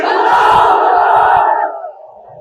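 At a political rally, a large crowd roars a slogan in unison in answer to a Naara-e-Takbeer call, a loud, dense chant lasting over a second before tailing off into quieter voices.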